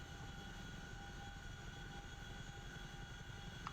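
Steady low rotor drone and engine rumble of a Chinook helicopter in flight in the video game DCS World, a continuous dense hum at moderate distance with no voices and no change in pitch.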